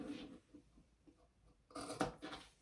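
Big shears snip through fabric pieces for a sling bag, a couple of short crisp cutting bursts near the end after quiet handling rustles.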